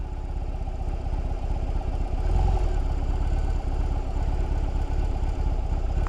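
A BMW R 18 motorcycle's large boxer engine idling up close, a steady low throbbing rumble with mechanical clatter and a brief swell partway through, heard alone with no talking.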